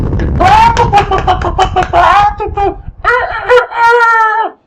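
A voice imitates chicken clucking and squawking in a rapid, loud run of choppy calls, then higher drawn-out crowing-like cries.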